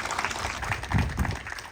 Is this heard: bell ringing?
no